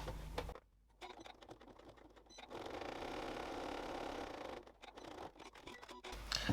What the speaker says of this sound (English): So I'm going to add another line of stitching just within there.